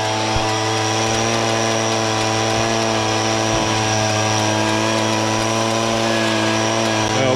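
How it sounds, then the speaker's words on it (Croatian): Compressed air blasts steadily to clear dust out of a New Holland CX 5090 combine harvester at wheat harvest, a continuous loud hiss over a droning engine hum, with no break. "glavno izduvavanje vam je iznutra ka s polja"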